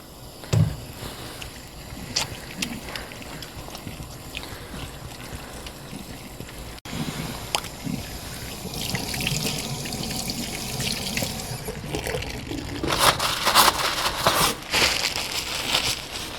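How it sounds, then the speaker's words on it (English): Hands being washed with surgical scrub solution under running water at a sink before a veterinary surgical scrub, with steady splashing and trickling that grows louder and busier in the second half, no talk. "I would wash my hands with the same solution that I am going to do the scrub with."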